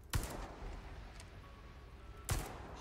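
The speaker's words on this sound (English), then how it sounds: "I guess that really was an RPG" Rocket launch and blast in Resident Evil 4, two sharp booming impacts about two seconds apart, the second loud and close, over a steady rumbling game backdrop.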